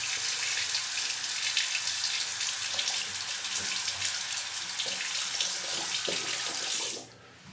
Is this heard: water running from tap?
yes